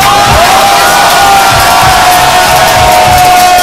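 Crowd at an open mic hip-hop party in Jyväskylä, Finland, shouting and cheering loudly and continuously, a dense roar of voices with a steady whistling tone running through it.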